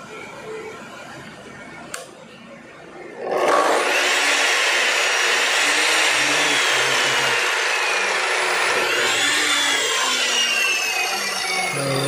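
A repaired Lutos chop saw cut-off machine switches on after a brief quiet start and runs steadily at full speed, a loud continuous motor whine and hum with no one talking.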